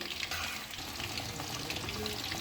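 Pieces of fish fry in hot oil with a steady, crackling sizzle full of small pops and spits, close and continuous at a moderate level with no talking.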